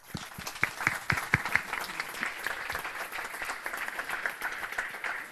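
A conference audience at a strength sports event applauding, with many hands clapping together in a steady, sustained burst.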